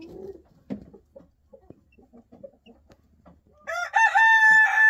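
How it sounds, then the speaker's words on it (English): A rooster crows loudly near the end, preceded by scattered soft clucks and shuffling noises in a quiet setting. "I think that one's a rooster, personally."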